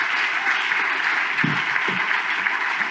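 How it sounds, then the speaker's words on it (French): Steady applause from an audience at an evening event, a dense wash of clapping held at an even level throughout with no break. "est-ce qu'on peut applaudir pour l'organisateur de la soirée?"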